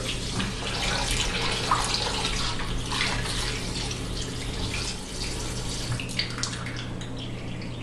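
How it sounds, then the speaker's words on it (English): Tap water runs steadily into a sink, splashing and sloshing as oxtail is rinsed under the cold stream. "rinse the oxtail in cold water"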